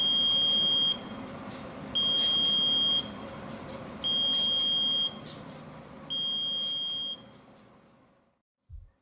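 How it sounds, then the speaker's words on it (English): Alarm of a GPS and GSM vehicle tracking system built on a PIC18F46K22: four loud, shrill electronic beeps, each about a second long and evenly spaced about two seconds apart, close and alone, fading at the end. "the user can trigger the alarm so that the loud sound generated by the alarm might be useful to retrieve the vehicle back"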